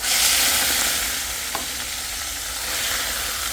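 Meat frying in plenty of oil, a loud, even, close sizzle with one small clink partway through and no voices.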